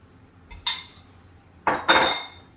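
Quick guacamole made from avocado set onto a plate beside a flank steak dinner: two pairs of close, clattering dish-and-utensil clinks, one near the start and a louder pair a second later, with no talking.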